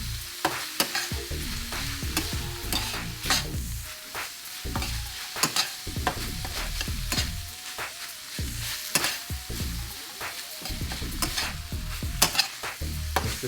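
Taco filling sizzles in a pan while a spoon or spatula scrapes and stirs it in repeated strokes, loud and close, with a continuous fry hiss underneath.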